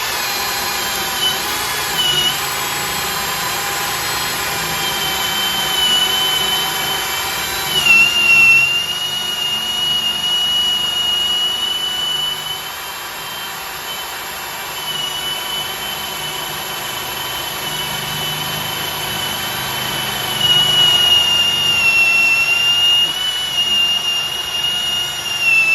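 A Milwaukee or Ridgid power drill turning an auger bit runs steadily for the whole stretch, a loud, continuous high-pitched motor whine with small shifts in load and pitch as the bit bores in.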